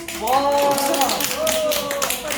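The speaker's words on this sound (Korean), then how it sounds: "환영의 박수" Children clap in welcome during an elementary Sunday school class at church, with scattered taps and claps mixed with excited young voices throughout.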